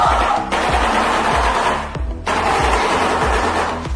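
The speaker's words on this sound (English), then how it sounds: "This is a shoebill." A shoebill claps its bill in a rapid, machine-gun-like clatter. The dense rattling runs in two long bursts broken by a brief pause, loud and close over a faint rhythmic beat.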